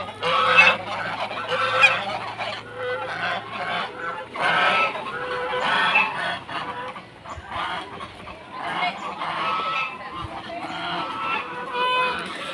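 A flock of geese in a rural village honks repeatedly in overlapping bursts, close and loud, with noisy, uneven calls continuing throughout and voices faintly mixed in.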